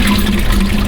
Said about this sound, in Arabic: بيملى ميه دلوقتي.